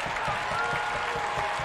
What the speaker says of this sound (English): Crowd coming to its feet with 40 seconds left.